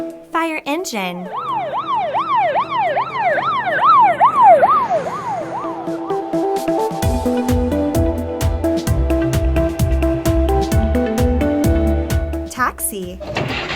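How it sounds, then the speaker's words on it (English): A fire engine siren in a kids' street vehicle lineup, rising and falling in a fast wail that sweeps up and down near and loud, then giving way to a steady horn-like blaring pattern with a rumbling engine beneath. "Fire engine."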